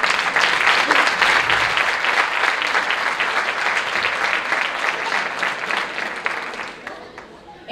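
A large audience claps steadily for a youth band at a Santa Cecilia concert, dense sustained applause filling the hall before thinning out near the end.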